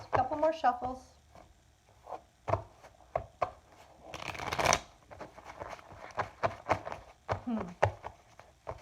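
Tarot cards shuffled by hand, a brisk riffling burst plus scattered crisp taps and slides of the deck, close and quiet, with someone talking softly at the start.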